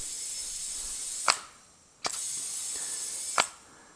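A tire inflator nozzle on a Lexus LS wheel gives three short, sharp bursts of hissing air, each one close and loud, separated by brief quieter gaps.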